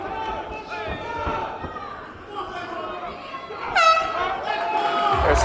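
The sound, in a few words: horn signalling end of boxing round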